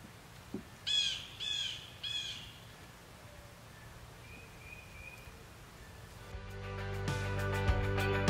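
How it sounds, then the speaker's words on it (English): Three loud cawing bird calls ring out outdoors, followed by softer scattered chirps and a thin whistle, then a muffled rumble of other noise at the end. "Just love to hear the birds singing."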